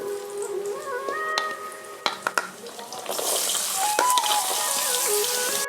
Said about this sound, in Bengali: আলু আর গাজর একসঙ্গে ভেজে নেব।